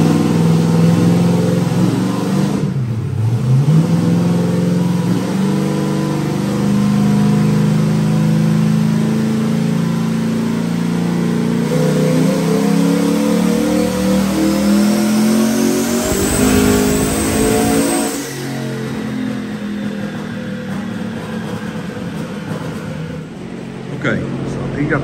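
A car with a BTR turbo cam makes a dyno pull, its engine droning loud and continuous as revs climb and fall over a long stretch, with speech also present.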